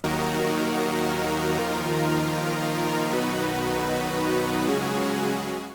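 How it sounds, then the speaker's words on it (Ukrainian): A bright, buzzy sawtooth synth pad for a rage-type beat plays sustained chords, changing every second or so, loud and continuous with no voices. "пілообразні звуки"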